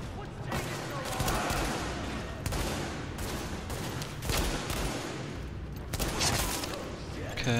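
Rapid gunfire bursts and heavy impacts in the shooter video game The Division, a dense continuous volley with several sharp louder cracks, under quiet commentary.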